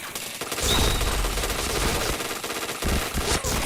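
Rapid bursts of automatic gunfire from a shooting video game, loud and dense, with heavy repeated shots crackling throughout and no talking.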